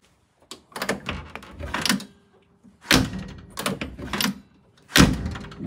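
The door of a 1974 VW Karmann Ghia Type 14 is worked repeatedly, with latch clicks and several firm thunks spaced roughly a second apart, close up.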